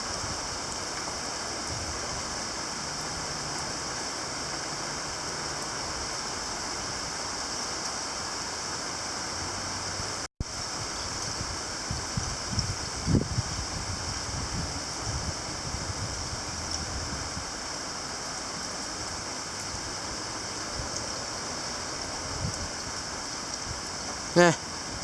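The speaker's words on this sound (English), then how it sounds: "A little quick bit of a downpour there." A short moderate summer downpour with no breeze, a steady even hiss of rain close by throughout, with a few faint knocks and handling thumps and a sharp click near the end.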